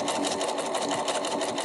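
A sewing machine stitches down the hem of a reusable fabric tote bag with a fast, continuous mechanical whirr and rapid needle clatter, close and steady throughout.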